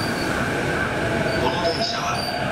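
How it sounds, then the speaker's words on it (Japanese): A Chuo Line E233 series train arriving at Tokyo Station's platform rumbles steadily and loudly close by, with a faint metallic whine from the wheels running through the noise. "まもなく2番線に当駅止まりの電車が参ります。"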